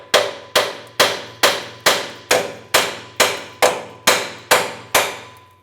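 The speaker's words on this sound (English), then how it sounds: "Might need a couple taps to break it free." Hammer blows on a rusty upstream O2 sensor on a 1995-2004 Toyota Tacoma, eleven sharp metallic knocks at an even pace of about two per second, each ringing out briefly over a low steady hum.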